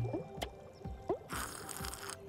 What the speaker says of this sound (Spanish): Presiono el botón aquí, las burbujas burbujean y salen por aquí.